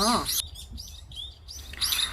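Green woodpecker calling on the ground while feeding on insects in a forest setting, giving a few short, bright chirping calls close by with quiet gaps between them.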